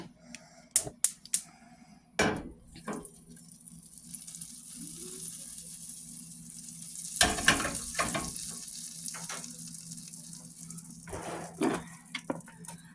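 Butter sizzles in a hot pan over leftover oil, a low steady frying hiss with several sharp knocks and clatters of utensils or the pan at intervals, no talk.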